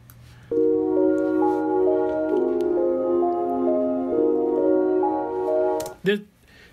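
A looped synth melody plays steadily in music production software with sustained tones and shifting notes, followed by a brief clatter at the end.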